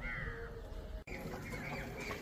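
Chickens cluck and murmur steadily at a moderate distance on a poultry farm, a continuous low chorus with no talking.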